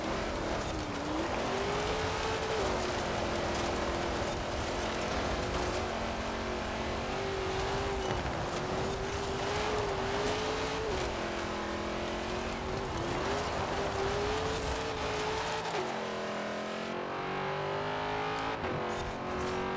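Sustained car engine from the video game Forza Horizon 4, a steady high revving drone that holds and wavers in pitch for a long stretch, loud and continuous with no talk over it.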